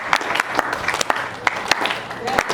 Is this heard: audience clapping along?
yes